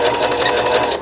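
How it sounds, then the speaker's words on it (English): Sewing machine stitching the sleeve of a dress for a Halloween costume: a loud, close, continuous rapid whirring hum of the needle running, steady throughout with no pauses. "I'm about to start sewing the sleeve"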